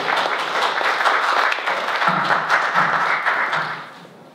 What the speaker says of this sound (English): Round of applause for Jelena